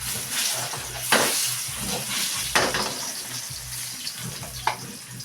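Meat for pochero fries in a pan with a loud, continuous sizzle and hiss, broken by a few sharper spatters and stirring scrapes, no voices over it.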